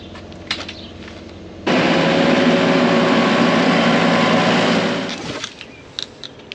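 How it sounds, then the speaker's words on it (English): A large tractor idles near a vegetable field planter, a steady low rumble that starts abruptly, holds evenly for several seconds, then drops away to quiet outdoor sounds. "that's a lot of tractor for that planter"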